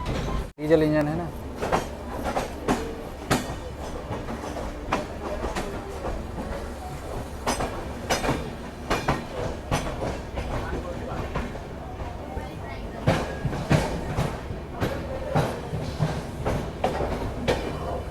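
Indian Railways diesel-hauled passenger train rolling along at a station outer, with rhythmic clickety-clack of wheels over rail joints, a steady low rumble and sharp metallic clanks, heard from inside a sleeper coach.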